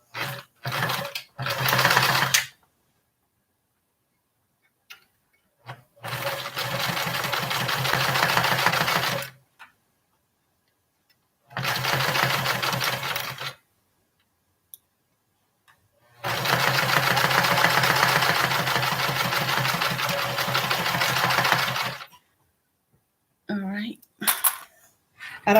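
A sewing machine stitches along the edge of fabric for a tiny standing bag at a quarter-inch seam allowance, in several loud close runs of varying length separated by silent gaps.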